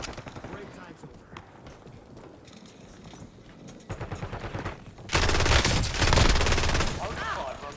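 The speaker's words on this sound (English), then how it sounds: "Taking effective fire." Video game gunfire with machine gun bursts, quieter scattered shots early then a loud, sustained barrage of rapid fire in the second half, mixed with in-game voice lines.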